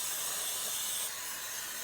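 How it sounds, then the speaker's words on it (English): Steady broadband hiss of water spraying from a hose onto Honda GCV160 carburetor parts, continuous and fairly close, easing slightly in the second half. "Let's just give them a quick hose down."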